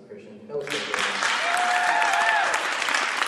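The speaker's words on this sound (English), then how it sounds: "Can we get one more round of applause for Christian?" An audience at a resilience talk breaks into loud, sustained applause, dense clapping from a crowd filling the room after a brief lead-in, with some cheering voices mixed in.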